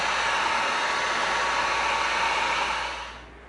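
A heat gun sealing layered EVA foam for a Fortnite stink grenade prop handle, giving a steady close-up whooshing roar of blown hot air that holds level, then cuts off and fades near the end.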